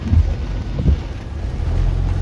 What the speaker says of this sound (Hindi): बहुत तेज़ बारिश भी हो रही है